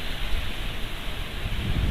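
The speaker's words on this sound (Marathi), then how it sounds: "अचानकच एवढा पाऊस आलाय." Heavy rain pours down beside a river where people are out fishing, a steady, close hiss of downpour that holds evenly throughout, with no voices.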